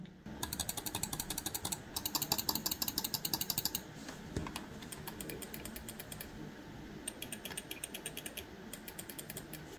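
Rapid bursts of small plastic clicks from a Logitech G102 computer mouse, quiet and close, coming in quick trains separated by short pauses.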